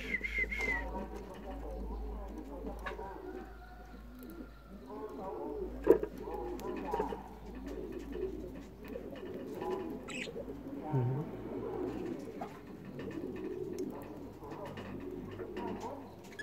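Long-tailed parakeets call repeatedly at close range, a mix of soft cooing and whistled notes running through the whole stretch while a person talks over them.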